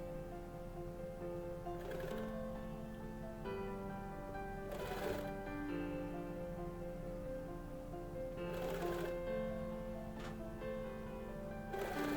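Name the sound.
sewing machine stitching blanket jacket layers together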